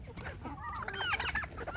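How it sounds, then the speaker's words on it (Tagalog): Pet farm chickens cluck and chatter close by in a short, lively burst of several rapid calls, with no one speaking. "patukan na natin itong ating mga alagang manok"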